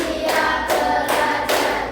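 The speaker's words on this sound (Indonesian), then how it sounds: "kita melakukan tepuk 1, tepuk 2, tepuk 3, tepuk 4, tepuk 5" Hands clapping in a counted classroom clapping routine led by a teacher: four distinct, evenly spaced bursts of clapping, close and fairly loud, with no talk.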